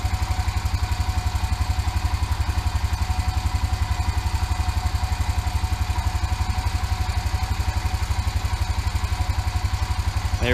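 A Honda Rancher 350 ATV engine runs steadily after an overhaul, a loud, close, fast and even mechanical thrum held throughout with no talking over it.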